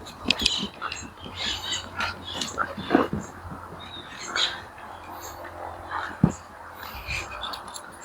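Herding dog working sheep on a Brazilian sheep ranch and kennel, with scattered short whimpers and yips and faint shuffling outdoors, mostly quiet, with a sharp knock near the end and soft voices in the background.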